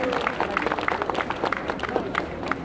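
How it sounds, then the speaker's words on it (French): Applause and crowd noise at a Saint-Omer wedding ceremony featuring giants, with clapping rising in bursts under an announcer's voice. "Et pour Belle-Lise, ce sera la géante Zabel, qu'on peut applaudir."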